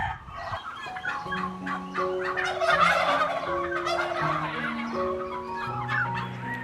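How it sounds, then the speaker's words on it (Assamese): Flock of American Royal turkeys gobbling in overlapping bursts, with warbling calls and occasional clucks from several birds at once, moderately loud and close. "এইবিলাক আপোনালোকে দেখিবলৈ পাইছে স্ক্ৰীনৰ আগত আমেৰিকান ৰয়েল টাৰ্কি"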